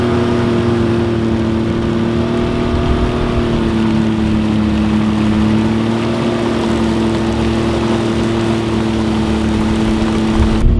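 A Tesla Cybertruck fitted with snow tracks drives across a snowy mountaintop, a steady loud motor whine and drone with continuous rumbling track and snow noise underneath, holding even throughout with no talk.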